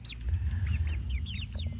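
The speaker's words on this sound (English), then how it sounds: "Yeah, I love my chickens" Several chickens cluck and chatter close by in a quick, busy stream of short calls, with no voices.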